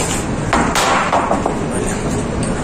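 Wooden boards clatter and bang as they are tossed into a truck bed, several knocks in quick succession with a hollow, noisy rattle.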